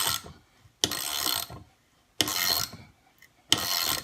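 A 3/8 inch ratchet wrench clicks its teeth in three close, loud bursts of rapid ratcheting, separated by short pauses, with no talking.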